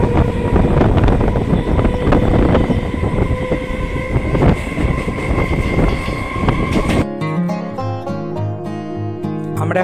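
A local train on the Howrah line runs loudly through a railway station platform, its rumbling, clattering wheels and rolling stock dominating for several seconds before the noise cuts away abruptly to quieter tonal sound.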